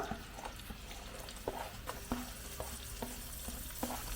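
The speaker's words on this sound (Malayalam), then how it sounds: "നമ്മുടെ എണ്ണ ചൂടായിട്ടിനകത്തേക്ക് നമ്മൾ അരിഞ്ഞ് വെച്ചിരുന്ന ഇരുന്നൂറ്റമ്പത് ഗ്രാം ചുവന്നുള്ളി അങ്ങോട്ട് ഇട്ട് കൊടുക്കാം" Chopped red shallots, 250 grams, dropped into hot oil for a chicken curry: a soft continuous sizzle broken by light, irregular clicks of a spoon against the pan, fairly quiet with no speech.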